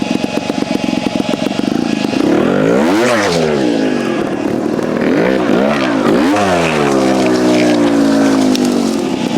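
A Beta TR34 trials motorcycle rides with Tech Kashima forks fitted. The engine note is loud and close, rising and falling in sharp revving swoops as the bike blips and pulls through a front-wheel move, and no one speaks.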